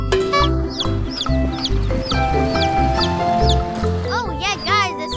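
Clucking and squawking from a new chicken, several calls repeating in bursts over steady background music, with bright rising chirps toward the end.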